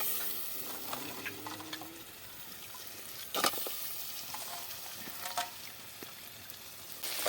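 Vegetables and tomato sizzle and hiss in a frying pan, a steady moderate crackle with a few louder bursts and stirring scrapes as more goes in, no voices.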